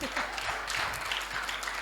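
Audience applause at a Hindi comedy poetry show: a short burst of clapping from the crowd, moderately loud, with a voice speaking over it.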